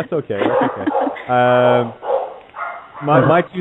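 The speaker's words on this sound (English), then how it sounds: "someone's got a dog fight going on" Dogs fighting somewhere nearby bark and yelp in sharp bursts mixed with whimpers, heard over and between people talking.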